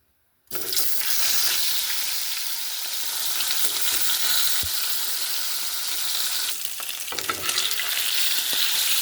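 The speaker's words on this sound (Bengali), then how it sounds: "এবারে মাছগুলোকে আমি ভেজে নেব।" Sating fish frying in hot oil in a pan makes a loud, continuous close sizzle that begins abruptly after a brief silence and holds steady, with a slight surge near the end.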